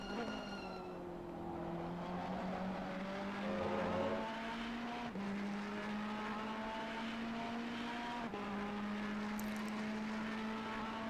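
Race cars lap the Bathurst circuit in a charity race, with engine tones rising steadily through the gears in repeated upshifts under a constant background roar, heard at a moderate distance.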